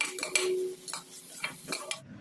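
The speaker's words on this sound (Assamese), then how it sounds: "কেৰাহী এখনত পিঁয়াজ, কেঁচা জলকীয়া, নহৰু অকণমান আদা পিঁয়াজ দি দিছোঁ।" Onion, green chilli, garlic and ginger fry in a kadai while a utensil stirs them, giving a run of close scraping and clinking strokes over a light sizzle, with no talk.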